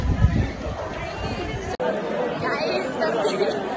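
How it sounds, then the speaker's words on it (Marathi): Crowd chatter at the Pandharpur pilgrimage to Vitthal, a dense, continuous murmur of many voices close around, steady throughout with a momentary dropout partway through. "खूप गर्दी."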